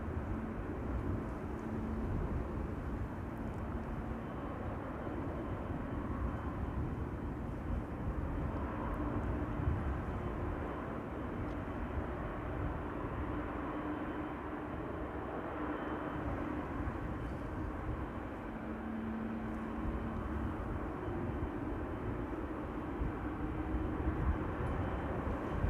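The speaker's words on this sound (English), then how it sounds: "Second GE90 of the 777 to Lima starting up." A GE90 engine on a Boeing 777 spools up at Amsterdam Schiphol Airport, heard as a steady, distant low rumble and whine that holds at an even level throughout, with faint airport ambience.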